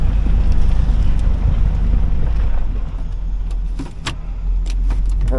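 A 2003 Hummer H2 with an LQ4 engine and two flat tires idles in a wrecking yard, then rumbles loudly as it shifts into gear and creeps along, with wind buffeting the microphone and small clicks and rattles.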